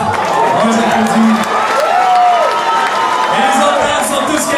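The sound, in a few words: audience applauding bands at concert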